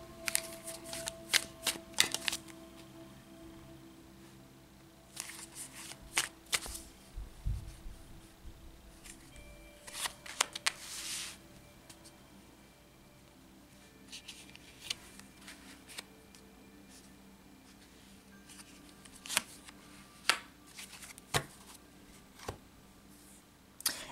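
Tarot cards are shuffled by hand in repeated riffling bursts, close and crisp, separated by quieter pauses and light handling sounds, with no talk.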